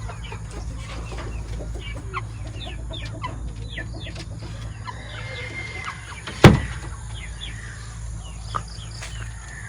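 Chickens at a backyard poultry farm in Glan, Sarangani Province, with soft scattered clucking and chatter over a steady outdoor background and one sharp loud sound partway through.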